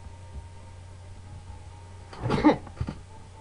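A single sneeze from someone recovering from a cold, a sharp burst near the mic at about 2.3 seconds with a smaller follow-up catch, over quiet background hum with no talk.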